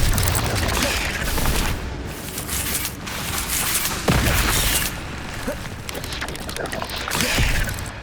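Incendio fire spells cast repeatedly in Hogwarts Legacy on PS5 burst out as loud, rough whooshing blasts in quick succession, layered over dense ongoing combat noise.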